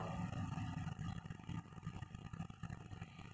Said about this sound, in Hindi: ये चल रहा है 200 RPM 300 RPM पर जा रहा है अपना ट्रैक्टर, कैसी आवाज़ निकल रहा है आप सुन ही सकते हो